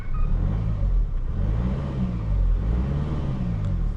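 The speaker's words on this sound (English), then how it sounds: "Let's give it some rev, see what's on it." A 2019 Mercedes GLC 300d diesel engine revs up from inside the cabin, a loud, steady low rumble rising and falling in pitch through several throttle blips, with no talk over it.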